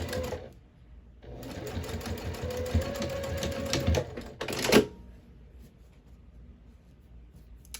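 A sewing machine back stitches along the very edge of a fabric bin, running in a few short whirring bursts with brief pauses between them, close and clear, ending in a sharp louder clatter.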